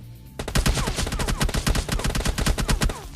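Rapid bursts of automatic gunfire from an enemy pre-firing in the mobile shooter PUBG Mobile Lite, loud and close, with sharp repeated shots running almost continuously for about three seconds.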